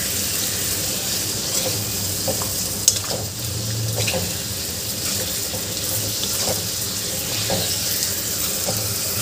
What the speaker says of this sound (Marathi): यामध्ये मी वाटणाचं पाणी घातलं आहे